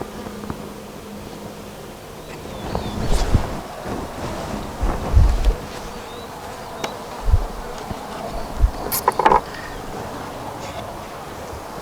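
Honeybees buzz around an open nuc hive outdoors, a continuous close swarm drone with individual bees passing near, some wind buffeting and occasional handling knocks, no talk.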